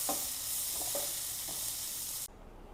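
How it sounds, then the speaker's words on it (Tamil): Onion and tomato sauté in a pan for chutney, a bright hissing sizzle with a few soft stirring scrapes that cuts off abruptly near the end. "இதுவும் தக்காளியும் நல்லா மசிய அளவு வதக்கணும்."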